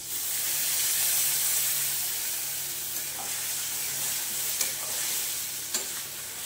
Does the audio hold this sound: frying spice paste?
yes